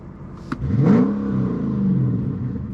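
A Mercedes C55 AMG with straight-pipe Kleemann headers and valved mufflers open revs up with a deep, loud exhaust roar that rises, holds, and settles into a throaty drone, close by.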